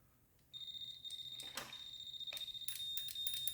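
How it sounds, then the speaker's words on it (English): A continuous high electronic beep from an abandoned Porsche starts abruptly and holds steady, with faint clicks and rattling handling noises underneath. "this thing's got some stupid beeper in it"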